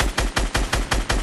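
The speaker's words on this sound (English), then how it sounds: "Yeah, we're getting sniped." Rapid gunfire in a Fortnite match: six loud, evenly spaced shots cracking in quick succession, each with a heavy low thump and bright burst, close and alone.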